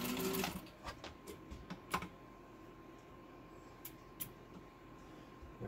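A Singer 15-91 sewing machine stitches fabric with quiet, spaced mechanical clicks and taps over a soft motor hum, fairly faint and close, with no voices.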